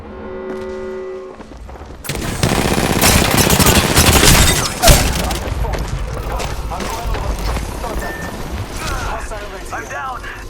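Rapid pistol fire in Apex Legends bursts in after a quiet opening, with dense shots and game effects running for several seconds and one sharp louder report midway.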